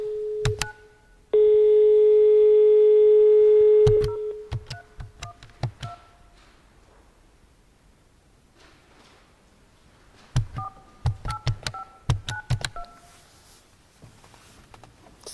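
A telephone dial tone hums steadily for a few seconds, then a series of short keypad beeps sound as a number is dialed, with quiet pauses and a second burst of tones near the end.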